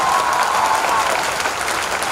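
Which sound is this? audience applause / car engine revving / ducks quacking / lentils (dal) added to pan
audience applause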